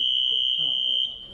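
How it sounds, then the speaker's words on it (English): A fire alarm sounds as a loud, steady high electronic tone lasting the whole moment, with faint voices murmuring underneath. "Fire alarm?"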